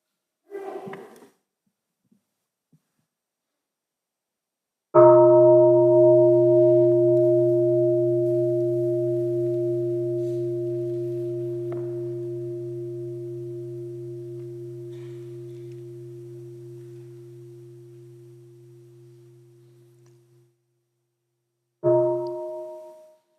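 At an ordination ceremony, a single bell is struck, ringing out clearly and decaying slowly for about fifteen seconds, with a second brief strike heard near the end, otherwise quiet.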